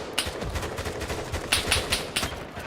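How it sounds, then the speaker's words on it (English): Rapid repeated launches of grenades in a Cold War multiplayer shooter game, a run of sharp, punchy reports in an uneven rhythm, fairly loud and close, with no talk over them. "I definitely shot a load of grenades over there"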